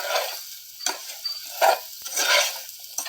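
Salted banana pieces stirred in a hot pan for banana fry, with repeated scraping strokes of a spatula over a light sizzle, close and fairly loud, with brief pauses between strokes.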